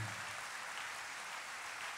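A church congregation claps together in a steady, even wash of applause, moderately loud and continuous throughout with no voices over it.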